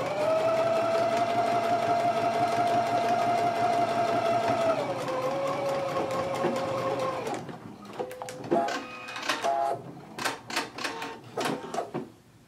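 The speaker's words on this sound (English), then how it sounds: "we can go ahead and stitch it between the two circles at a 5/8 of an inch seam allowance" A sewing machine stitches a collar to a bodice at a 5/8-inch seam allowance, running in a steady high whine close by, dipping slightly in pitch before stopping. Intermittent clicks, short bursts and handling noises follow.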